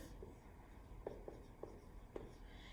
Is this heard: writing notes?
yes